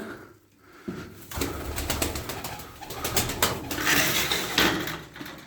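Tumbler pigeons cooing close by, soft repeated low coos with some light rustling and clatter, alone without talk.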